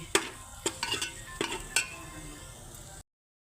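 Ginger, garlic and radhuni paste frying on a low flame, a quiet steady sizzle broken by several sharp clinks of a spoon against the pan, close by, ending abruptly in silence.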